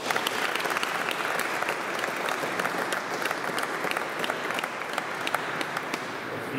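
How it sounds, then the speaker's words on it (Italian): Applause fills a church gathering held to present a restored baptismal-font fresco, a steady crowd clapping for the full length at moderate distance with no voices over it. "facendo insieme un bel applauso a tutti quanti"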